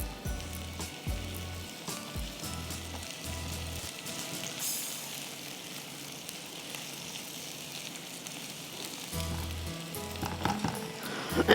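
A tempering of oil and asafoetida sizzles and fries in a kadhai for Gujarati curry, a steady close crackle with low thumps from the stove or pan.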